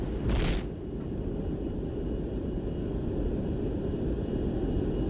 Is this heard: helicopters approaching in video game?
yes